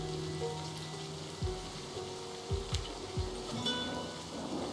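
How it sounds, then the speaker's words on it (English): Rain falling in the video game Livber: Smoke and Mirrors, a steady soft hiss of drops with a few low thumps over a constant ambient hum. "You shouldn't stay out in the rain any longer now."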